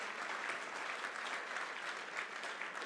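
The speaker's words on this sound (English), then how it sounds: "give yourselves a round of applause" A convention audience of about a thousand AHEPA members applauds steadily, a dense, even wash of clapping heard up close and alone, with no speech over it.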